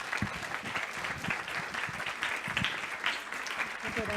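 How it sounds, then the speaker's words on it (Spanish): Steady applause from an audience at a Spanish-language talk on supermassive black holes and galaxies, dense and even throughout, with some voices mixed in. "Por favor, un fuerte aplauso para el doctor Jair Krongold."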